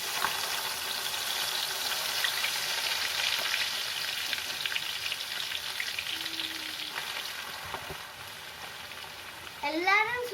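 Bitter gourd slices fry in hot oil with a steady, dense sizzle running throughout, close and fairly loud, easing slightly toward the end as a brief stirring clatter and a voice break in.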